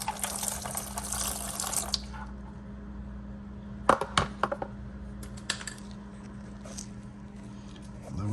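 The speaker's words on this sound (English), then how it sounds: "the first engine flush and dirty oil is coming out right now" Dirty engine oil from a 2013 Kia Soul pours and splashes steadily for a couple of seconds after an engine flush, then stops, followed by scattered clicks and clanks against a low mechanical hum.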